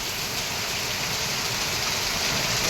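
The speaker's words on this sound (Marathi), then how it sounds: "भयानक पाऊस पडतोय मंडळी." Torrential monsoon rain under a red alert, a broad unbroken wash of falling water that holds steady and slightly swells, heard alone without speech.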